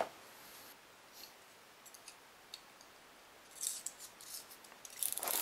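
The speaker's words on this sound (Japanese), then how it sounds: "じゃあ切ってみましょうかね、新品に変えて。" A fresh blade snips through soft mask-kit material in a few faint, scattered cuts, with a denser burst of snipping near the end in an otherwise quiet room.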